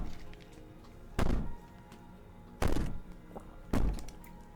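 Three heavy, dull bangs on a wall in the video game Slay the Princess, spaced more than a second apart, each a booming thud over a quiet low hum with no talking.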